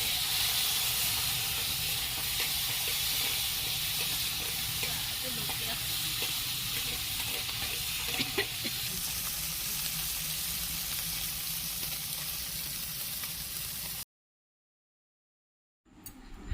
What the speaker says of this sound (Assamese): কেৰাহীত তেল দি তেলখিনি গৰম হোৱাত মই সানি থোৱা মাছখিনি তেলত দি কিছু সময় ভাজিলোঁ।